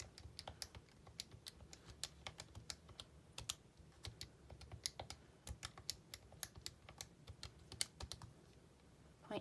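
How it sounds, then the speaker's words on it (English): Rapid, irregular keystrokes on a computer keyboard while figures are entered into a calculator or computer for a two-proportion confidence interval, close and steady with no talking. "I'm just going to type it all in at once."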